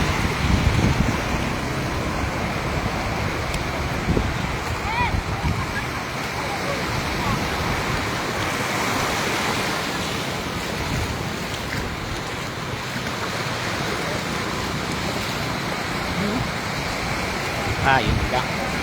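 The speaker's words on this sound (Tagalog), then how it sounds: "ang laki ng alon" Sea waves breaking at a beach in Binmaley, Pangasinan, a continuous broadband wash of surf mixed with wind buffeting the microphone, steady throughout with a few louder surges.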